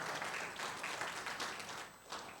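A congregation at a church worship service gives a short round of applause, fairly faint and distant, with rippling claps that fade within a couple of seconds.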